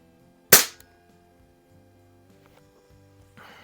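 A single sharp shot from a repaired Tech Force TF-79 .22 CO2 target rifle cracks close by and decays quickly, followed by quiet handling noise.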